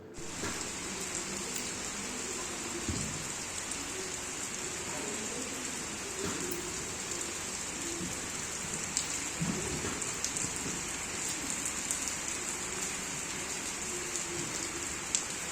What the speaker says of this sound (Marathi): बघा पाऊस आला